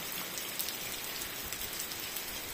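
Steady rain falls outdoors on a rural homestead, an even dense patter of drops on surfaces, constant and moderately soft with no voices.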